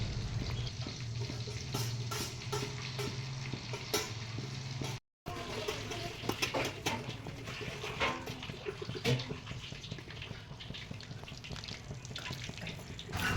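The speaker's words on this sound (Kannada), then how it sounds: "ಸೊ ಇಲ್ಲಿ ಎಣ್ಣೆ ಕಾಯ್ದಿದೆಯಾ ಅಂತ ಚೆಕ್ ಮಾಡೋಕ್ಕೆ ಸುಮ್ಮನೆ ಒಂದು ಹಾಕ್ಕೊಂಡಿದ್ದಷ್ಟೇ" Kodubale dough rings frying in hot oil give a continuous close sizzle and bubbling hiss, steady throughout with brief crackles and one short dropout.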